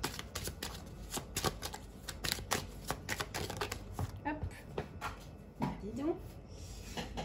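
Tarot cards being shuffled close by, with rapid repeated riffling and slapping bursts, while a person's voice speaks over and between the shuffles.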